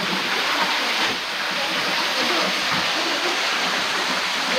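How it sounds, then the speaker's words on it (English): Small waterfall in a cave park in Meghalaya, a steady broadband rush of falling water that stays continuous and fairly loud throughout. "I mean, waterfall, little drip."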